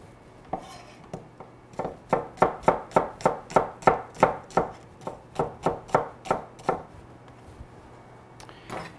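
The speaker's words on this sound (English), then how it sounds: "We're going to cut it into thin strips." A knife slices an onion into thin strips on a board: about seventeen crisp, evenly spaced chops in a steady rhythm, close and clear with no voices.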